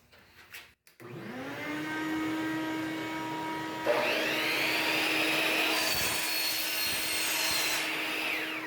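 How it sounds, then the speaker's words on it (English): A shop vacuum starts up and runs with a steady loud whine, its pitch rising further partway through as suction changes. "I'm going to turn on our shop vac so we can collect the dust when I cut it."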